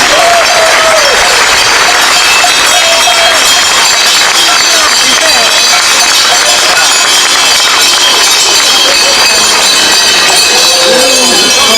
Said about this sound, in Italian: l'applauso per l'associazione Maschere Etniche Turpos Orotelli